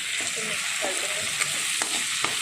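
Tomatoes, onions and capsicum with tomato ketchup being stirred in a hot pan for soya manchurian, steady sizzling under scraping spoon strokes and a few sharp taps against the pan.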